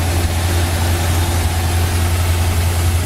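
A 1971 Ford Mustang Mach 1 with a 302 two-barrel V8 idles close by, a steady low throbbing rumble with an even beat that stays constant and loud throughout, with no talking.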